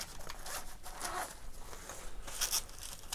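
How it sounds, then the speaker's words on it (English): A zipper on the supplied tool bag of a LulzBot TAZ6 3D printer toolkit is pulled open, giving a few quick, close ripping zips over roughly three seconds with no talking. "Oh, there's another zip."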